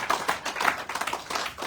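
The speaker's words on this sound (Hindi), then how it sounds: "अरे अपने लिए ताली बजा लो" An audience at a Bhagavat Katha religious discourse in Vietnam clapping, a dense, steady patter of many hands close by, continuous throughout with no speech.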